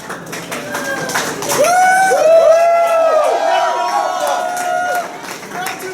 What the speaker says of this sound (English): Give a round of applause for this man.